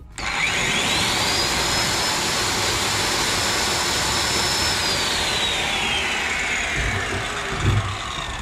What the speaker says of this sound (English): Let's start with the circle saw